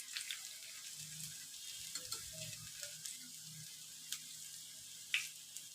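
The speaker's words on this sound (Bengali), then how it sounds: "এই দেখুন আমি হালকা আঁচে ভাজছি।" Puffed rice pakoras frying gently in oil over low heat, giving a faint, steady sizzle with soft scrapes and occasional light clicks from stirring and turning.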